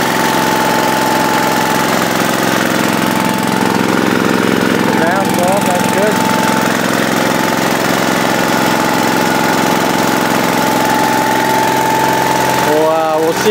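A gas-powered air compressor engine running after a cold start, a loud, steady mid-pitched drone with a faint whine throughout and a brief knocking clatter near the end.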